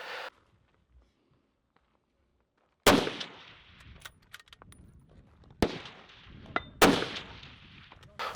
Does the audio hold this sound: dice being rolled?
no